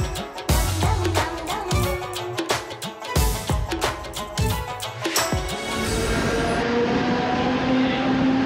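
A Mumbai local train runs from Andheri to CST, with loud repeated clanks and rattles from the carriage over the tracks, then a steadier rumbling run with a whine rising near the end.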